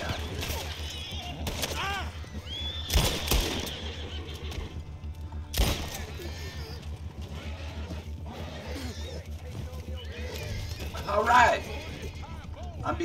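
Horses in Red Dead Redemption 2, with loud neighs and whinnies, clip-clop hoofbeats and a couple of sharp gunshot-like bangs over steady game ambience, while people talk throughout.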